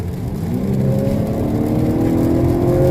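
A 2019 Honda Accord 2.0T Touring, a turbocharged four-cylinder, accelerates hard in eco mode from inside the cabin, its engine note a steady, loud whir that climbs in pitch throughout.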